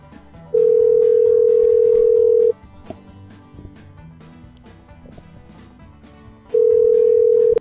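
A phone call being placed: a steady electronic tone sounds for about two seconds, then a quiet pause with faint background, then the same tone returns, clear and close.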